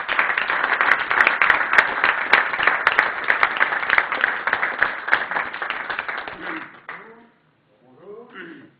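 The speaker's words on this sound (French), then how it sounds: "je vous demande d'applaudir" Audience applause at a comedy festival event in Montreux, brisk crowd clapping that fills most of the stretch, then fades out as a few voices begin speaking near the end.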